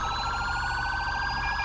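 Police car siren from the LSPDFR police game wails steadily and loudly throughout, a continuous electronic yelp with strong repeating harmonics and no voices over it.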